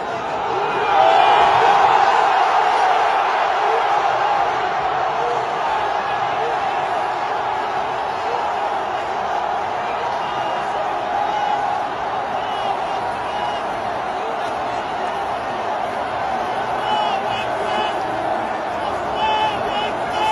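Morocco fans celebrate a win over Spain with a dense, sustained roar of many voices that stays loud and steady throughout, without letting up.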